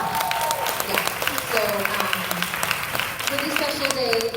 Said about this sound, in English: And then they're here clapping for us